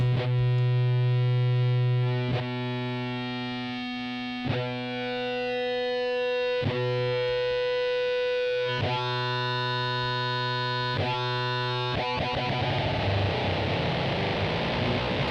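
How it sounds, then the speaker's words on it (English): A buzzy, distorted synthesizer tone from a Serge wave multiplier drones with a harsh squared-off edge, its pitch stepping at regular intervals before dissolving into noisy grit near the end. "it's definitely more of a distorted, sort of squared off signal"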